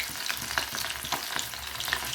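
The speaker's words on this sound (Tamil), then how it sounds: "எண்ணெய் கொதிச்சிருச்சு, நம்ம ஃபிஷ் போட்டுக்கலாம்." Sardines hiss and crackle as they fry in boiling oil for an Indian village-style fish curry, a steady close sizzle with small bursts of popping throughout.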